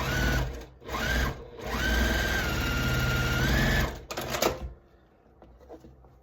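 A sewing machine stitches a row onto a flower quilt block in steady, loud whirring bursts broken by short pauses, then fades to quiet handling noises near the end.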